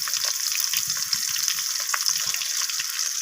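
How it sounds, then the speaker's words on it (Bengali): Chopped garlic and green chili sizzling in hot oil for a tempering, a steady dense crackling hiss close up with faint scraping of a spoon underneath. "এরপর আমি ফোড়নটাকে একটু ভাজা করে নিচ্ছি।"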